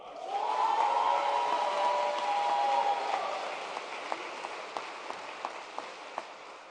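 Audience applause fills a college commencement hall for doctor of physical therapy award recipients, a dense steady wash of clapping for about four seconds that thins into a few scattered, distinct claps.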